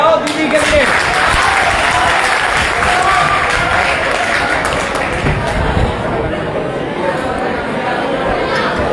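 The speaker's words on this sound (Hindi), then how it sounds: "अरे ताली तो बजाओ दीदी के लिए।" An audience applauds steadily and loudly at a drug-free India awareness event, a dense wash of clapping that carries on throughout with crowd chatter and voices underneath.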